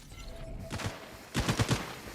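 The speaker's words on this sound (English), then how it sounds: "Flash grenade! Ouch, flash." A flash grenade goes off in the shooter game Caliber, heard as sharp, close bursts in two clusters: a pair of blasts early, then a tight rapid string of loud cracks, with no talk over them.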